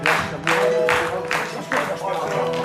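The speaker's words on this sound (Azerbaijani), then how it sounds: "amma alqışlarla təbii ki" Studio audience at an Azerbaijani music show clapping, a steady rhythmic applause at moderate loudness with a voice speaking over it throughout.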